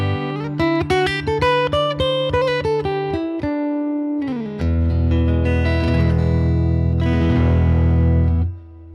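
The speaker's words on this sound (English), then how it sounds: "I got the 2 humbuckers, not split, in their full humbucking glory, and the piezo all at the same time." An electric guitar with two full humbuckers and a piezo pickup all switched on plays a run of bright, ringing picked notes and chords. It then settles into a thick, sustained, heavily processed wash, loud and alone.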